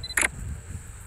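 A single crisp shutter click from a Sony Xperia 1 II phone camera sounds up close at the foot of Mount Merapi, a brief bright snap over quiet outdoor background.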